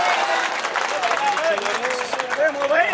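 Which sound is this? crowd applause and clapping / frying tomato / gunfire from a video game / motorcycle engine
crowd applause and clapping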